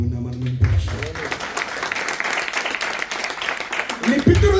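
A church congregation applauding during an evangelical Telugu service in Dubai, a dense, steady burst of many hands clapping for several seconds, with a preacher's voice before and after it.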